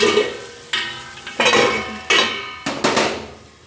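Pointed gourd (potol) pieces fry in a pan over high gas, a soft constant sizzle broken by several sharp metallic scrapes and stirs of a utensil against the pan, no voices.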